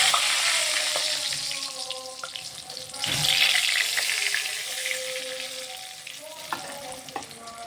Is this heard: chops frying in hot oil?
yes